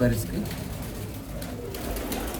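Pet pigeons in a home loft in cold weather coo in low, throaty rolls that are close and steady throughout, with a voice talking faintly underneath.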